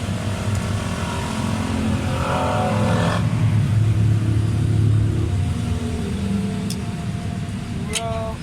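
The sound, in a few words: Mitsubishi Lancer engine revving, rpm rising and falling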